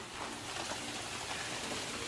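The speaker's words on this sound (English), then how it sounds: "Raining again" Steady rain pours down outside a farm house during typhoon season, a continuous dense hiss of drops that holds evenly throughout with no voices.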